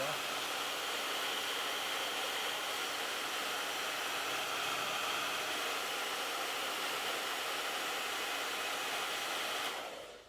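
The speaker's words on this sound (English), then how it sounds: "So I'm just going to dry that off with the hairdryer." A hairdryer set on warm dries black sign paint, giving a steady, close, airy whoosh that holds evenly for about ten seconds before cutting off.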